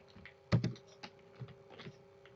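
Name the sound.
typing code on a computer keyboard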